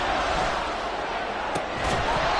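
Stadium crowd noise in a Madden football video game, a dense, loud, steady roar that swells slightly toward the end, with brief sharp impacts near the middle.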